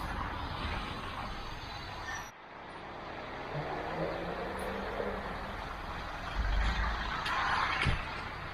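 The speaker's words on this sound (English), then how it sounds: "And trolley bus." A trolley bus moves along a street in Lviv, a steady roadway rumble of its motor and wheels mixed with surrounding traffic noise, fairly close and continuous, with a brief dip partway through.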